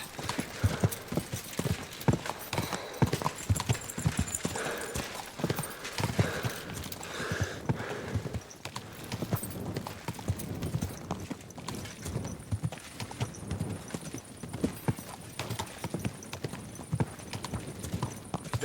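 Horse hooves clip-clop at a brisk, steady walking pace on a path in the medieval game Kingdom Come: Deliverance II, close and continuous with faint ambient outdoor background and no talk.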